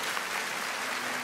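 A studio audience at The Voice Kids applauds in a steady, dense roar of clapping that fills the moment with no speech.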